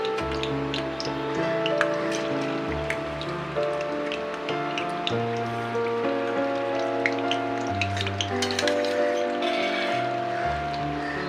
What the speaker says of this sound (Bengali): এখন আমি আলুগুলোকে লাল লাল করে ভেজে নিয়েছি